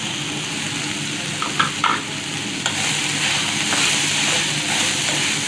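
Green chilies fry in a pan with carrot and capsicum, a steady close sizzle with a few scraping stirs, no talk.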